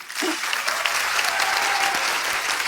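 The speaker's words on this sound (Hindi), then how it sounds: "इनके लिए जोरदार तालियां।" A studio audience at a Hindi television comedy show bursts into loud, steady applause and cheering that holds for a few seconds, close and dense, with no voices over it.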